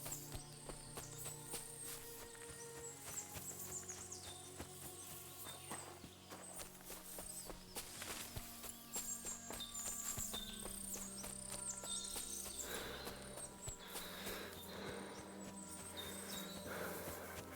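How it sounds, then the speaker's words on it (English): Horse hooves clip-clop steadily in a soft, continuous patter amid a busy Kingdom Come: Deliverance 2 game soundscape with music and scattered effects, fairly quiet overall. "Man, so many horses."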